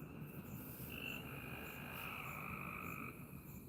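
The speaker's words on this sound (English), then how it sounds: "they're frogs, silly, I know it" Frogs croak outdoors at night in a steady, dense chorus, with overlapping calls held at a constant level through the whole stretch, moderately distant and with no voices.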